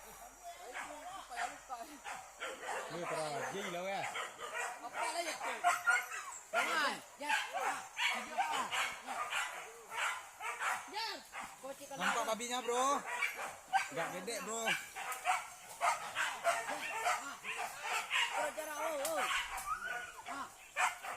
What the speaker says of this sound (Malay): Baru dah buka anjing.